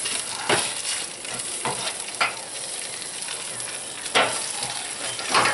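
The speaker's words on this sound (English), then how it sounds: "rib tips cooking in here, and the little broth we made" Rib tips cook in broth at a barbecue, sizzling steadily and close, with several louder bursts of hiss and spatter.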